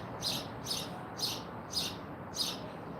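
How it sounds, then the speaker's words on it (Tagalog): Many birds chirping loudly in repeated bursts, five calls roughly half a second apart, hungry and crying out together over a steady background hiss. "Maraming mga ibon dito guys."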